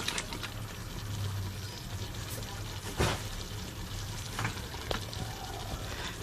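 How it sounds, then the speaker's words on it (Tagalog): Pasta sauce with mussels simmering in a pan, a steady soft bubbling sizzle with occasional sharper pops, close up and continuous with no talk. "Ayan, kumukulo-kulo na."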